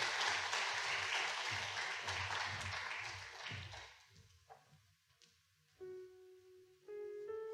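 A church congregation claps during a Sunday worship service as completion certificates and gifts are handed out, the crowd applause loud at first, then thinning to a few claps before a sustained organ-like tone comes in.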